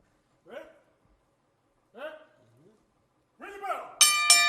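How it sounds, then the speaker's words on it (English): A voice speaks in short phrases over quiet, then a bright metallic wrestling ring bell clangs twice near the end, sharp and loud, at a professional wrestling match. "Bell sounds, we are off and running"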